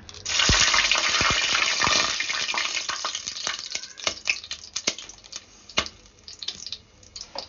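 A loud sizzle of cinnamon, cloves and cardamom hitting hot oil for veg biryani, settling into scattered crackles and pops that thin out over several seconds.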